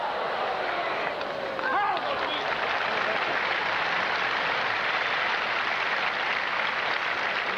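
A tennis crowd at the 1990 US Open, Sampras against Muster, breaks into steady, sustained applause that stays at an even level with a faint murmur of voices mixed in.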